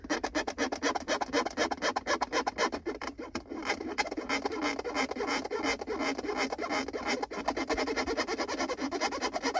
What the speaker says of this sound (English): Scratching this thing.